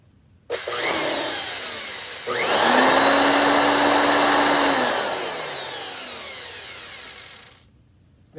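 A Kenmore twin-fan, two-speed upright vacuum cleaner runs loud and close, switching on with a steady whine, then rising to a stronger, higher-pitched roar in its second speed before dropping back and shutting off.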